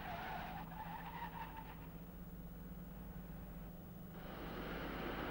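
A 1970s Mercedes-Benz car makes an ABS full-stop braking run toward a foam barrier on a test track. Steady road and tire noise continues throughout, with a brief rough skid-like burst partway through and no voices.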